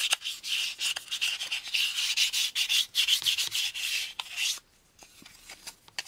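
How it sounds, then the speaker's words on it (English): Fine sandpaper rubs back and forth over a plastic part from the AMT U.S.S. Enterprise model kit in quick, close, rhythmic strokes that pause briefly near the end. "I'm using my fine sandpaper side, and I'm just sanding down here"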